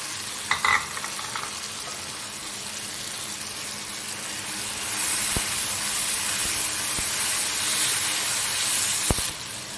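Tomato and green chili paste fries in a pan with a constant hissing sizzle that grows louder partway through. A few sharp utensil taps sound against the pan.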